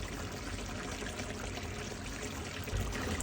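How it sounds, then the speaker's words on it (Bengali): Liquid pouring steadily into a pan of rohu fish curry with tomato, a continuous close rushing splash that barely varies over a few seconds. "আমি এখন এটা ঢেলে দিব। আমি ঢেলে দিচ্ছি।"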